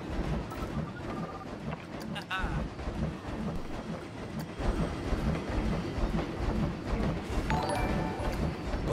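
A train ride in the Planet Coaster theme-park game gives a steady rumbling roll with faint clickety-clack rhythm and windy noise, continuous throughout.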